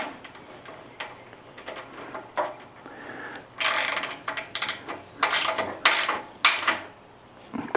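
A ratchet tightens serrated flange nuts on the rear leaf springs of a 1976 Jeep CJ-5 during a frame restoration, giving bursts of rapid clicking that start and stop several times, close up and fairly loud.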